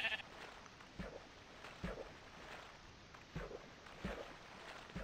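Sheep in the video game Minecraft bleat several times at a regular pace, soft and somewhat distant, over a quiet game background with no speech.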